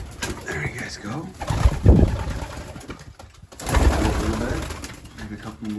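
Pigeons cooing on a loft landing board, soft repeated coos close by alongside rustling and handling noises, with someone talking in between.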